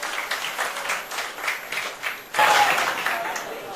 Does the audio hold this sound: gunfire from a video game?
no